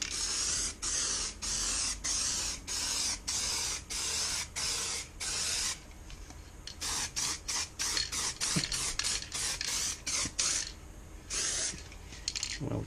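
Spray paint goes onto a Lamborghini Countach kit car in a rapid series of short hissing bursts, each a second or less, with brief gaps between; close and steady, no talking.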